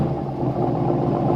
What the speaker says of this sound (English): is remote starting this now to hear the exhaust